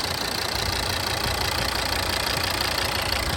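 A Volvo V60 D5 five-cylinder diesel engine idles steadily up close, a constant low rumble with a faint rhythmic knock and no voices over it.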